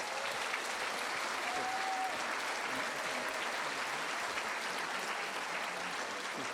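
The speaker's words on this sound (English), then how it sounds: "And further round of applause for Lord Lieutenant Alex Scott" Steady, dense audience applause fills the whole stretch at a school's 60th anniversary celebration, loud and even from start to finish with no voices standing out above the clapping.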